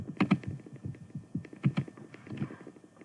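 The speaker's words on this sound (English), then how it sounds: "I wonder if I can type that out." Close, quick keystrokes clatter on a computer keyboard in short irregular bursts, each tap sharp and distinct, with no talking.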